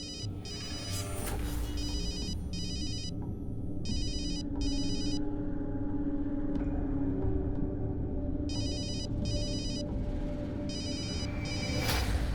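A telephone rings in repeated short bursts of electronic trilling, with pauses between groups of rings, over a low rumbling background in a crime drama scene.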